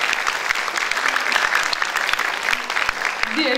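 Audience applause at an international festival in Istanbul greeting the visiting folk groups, a full crowd clapping steadily with some voices mixed in.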